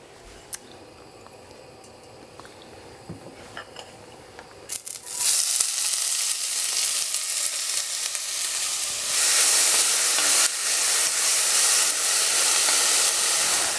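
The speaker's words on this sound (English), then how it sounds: "let's go saute these vegetables" Vegetables hit a hot pot for a vegan tofu chili: after a few quiet clinks, a loud, steady sizzle erupts and holds, close and alone, swelling slightly midway.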